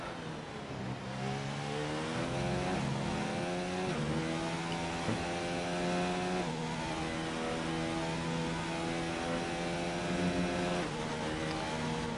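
Race car engine in a sim racing esports event at the Abu Dhabi Grand Prix circuit, revving high and steady through a flying lap with rising and falling pitch as gears shift, loud and continuous throughout.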